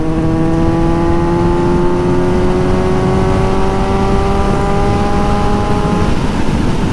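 A Kawasaki Z900 motorcycle at steady high speed on a road, its engine note holding a loud, sustained tone that drifts slowly upward, with continuous wind rush over it throughout.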